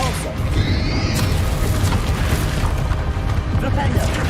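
A Depulso force spell cast in the video game Hogwarts Legacy, a dense, loud rumbling burst with whooshing magical energy, sustained over a thick game soundscape with a voice speaking over it.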